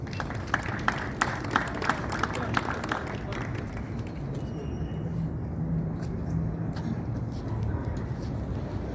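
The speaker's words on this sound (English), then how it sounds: "A round of applause, please." Audience applause at a Lithuanian Independence Restoration Day celebration in Philadelphia, brisk claps at the start that fade quickly into room noise and low murmuring.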